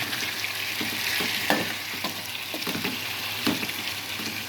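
Fish pieces frying in oil with chilli powder for a Nellore fish curry, a dense steady sizzle up close, broken by several spatula knocks and scrapes as the pieces are turned.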